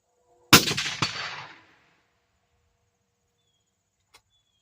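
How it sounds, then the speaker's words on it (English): A cold-bore rifle shot fired at a 131-yard target, with the rifle rested on a backpack: one loud, sharp crack with a short echoing tail, then near silence and a faint tick. "That, ladies and gentlemen, is a cold bore shot at"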